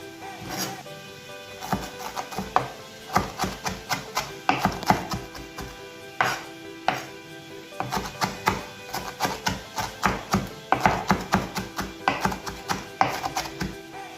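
A knife chopping fresh coriander on a board for couscous, a steady run of quick, close, sharp taps continuing throughout with small pauses, with no talking over it.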